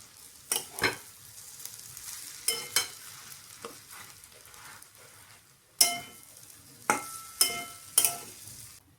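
Hand-crumbled potatoes frying in a pan for a quick vegetable bhaji, a light sizzle broken by several sharp scraping stirs and clatters of the spoon against the pan.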